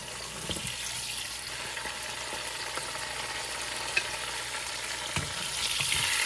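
Paneer frying in ghee left over from cooking capsicum makes a continuous close crackling sizzle, with a few soft knocks of a spoon against the pan and no talk.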